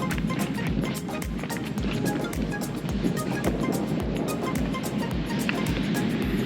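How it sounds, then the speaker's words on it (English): Surf rolls steadily onto a Texas beach, with a constant loud wash of waves and gusting wind buffeting the microphone throughout, no voices present. "And there we go, it's the ocean."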